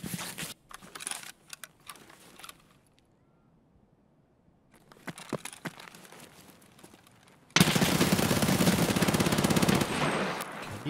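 Bursts of gunfire in Escape From Tarkov crack in scattered clusters, then a quiet gap, then more shots, ending in a loud, dense stretch of continuous noise.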